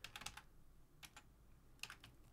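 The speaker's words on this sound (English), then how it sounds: "Sorry if my keyboard's being noisy." Computer keyboard typing during a digital sculpting livestream: three short bursts of rapid clicky keystrokes separated by pauses, close and moderately loud, with no talking.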